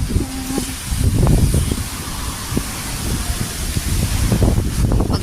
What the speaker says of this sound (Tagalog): Kasi umahangin, mabuti na lang kunti pa. Mahina pa yung hangin.